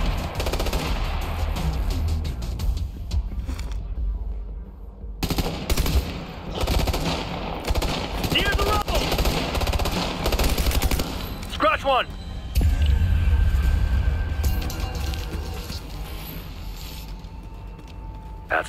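Light machine gun fire in Ghost Recon Future Soldier, during an attack on Russian artillery: sustained rapid bursts and mechanical clatter fill the whole stretch, loud and close, with brief pauses and voices calling out over the shooting.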